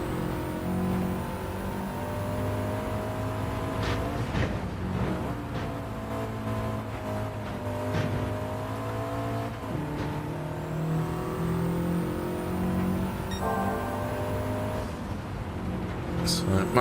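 A Peugeot 205 GTI hatchback engine in Gran Turismo 7 hums and revs steadily with shifting pitch and gear changes, moderately loud and continuous beneath a player talking.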